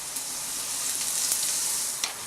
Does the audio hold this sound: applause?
no